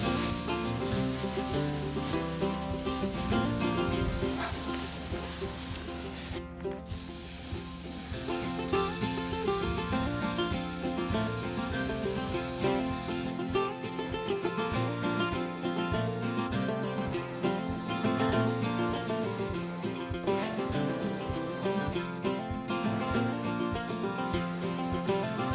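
Steady hiss of spray paint being applied to an old cattle squeeze chute during restoration, a continuous close rushing spray running almost unbroken with brief pauses.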